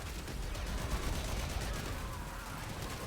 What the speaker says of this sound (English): this game gets chunky when enough explosions are happening